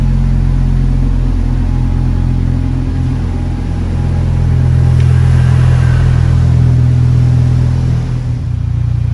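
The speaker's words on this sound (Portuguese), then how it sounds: "nós vamos ouvir aqui agora um 5 cilindros berrando" Close, loud, deep idle from a Volkswagen Jetta five-cylinder with a straight-through exhaust, swelling into a rev midway before easing back to a rumbling idle.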